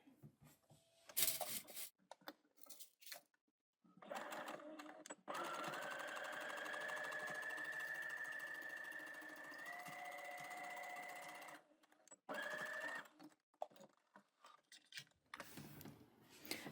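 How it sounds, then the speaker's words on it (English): A domestic sewing machine stitches a seam in a quiet room, with a steady whirring hum lasting several seconds, the pitch shifting slightly partway through. Short bursts of fabric handling and clicks come before and after. "sew the seam again"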